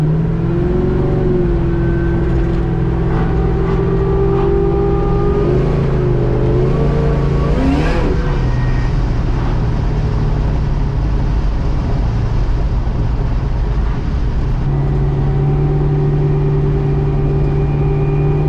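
A 1970 Chevelle with an LSA engine drives along, its steady, loud engine drone swelling in a brief rev partway through before settling back to an even cruise, with no talk.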